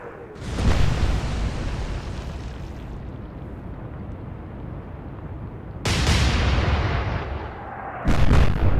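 Secondary explosions aboard the battleship Bismarck in the naval war game Atlantic Fleet: three loud, booming blasts, each with a sharp onset and a long rumbling tail, the last coming close after the second.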